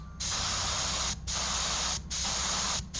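A spray gun sprays lacquer thinner in three steady hissing bursts of about a second each, separated by short pauses, loud and close.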